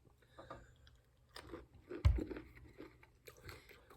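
Roasted Planters peanuts crunched close to the mic, a string of short crisp bites and chewing with one louder crunch near the middle, with no talking.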